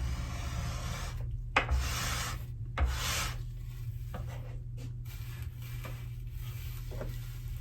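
Lacquer being scraped off a wooden table during refinishing, a close, dry rasping scrape in repeated strokes over a low steady hum, with a couple of brief knocks.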